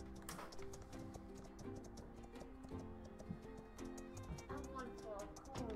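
A horse runs in the video game My Time at Sandrock, with quick, light hoof clip-clops ticking in a steady rhythm over soft background game music.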